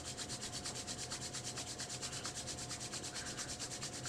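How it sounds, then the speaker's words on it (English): Palms rubbed briskly together during a yoga session, a steady close-up swishing friction with a quick regular back-and-forth rhythm, heard alone without talk. "Rub the palms one more time."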